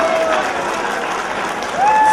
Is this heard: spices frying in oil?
no